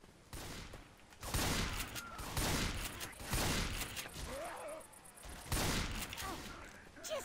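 Gunfire in the zombie shooter Left 4 Dead 2, with repeated bursts of rapid automatic shots and loud volleys in quick succession, mixed with game effects and faint voices underneath.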